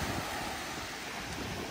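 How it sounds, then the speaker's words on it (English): Wind blowing at Pyramid Lake: a steady, broad rushing hiss with low rumbling buffets against the microphone, close and constant throughout, with no voices. "It's a little windy."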